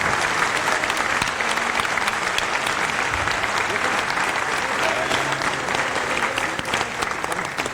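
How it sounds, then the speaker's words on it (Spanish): A festival audience applauds a panel of four guests, dense sustained clapping from a full room that holds steady and tapers slightly at the end. "Les pido un aplauso para estos 4 monstruos"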